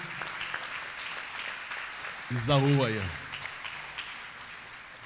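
Church congregation applauding, a steady wash of clapping from many hands that carries through the whole stretch, with a voice speaking briefly over it midway.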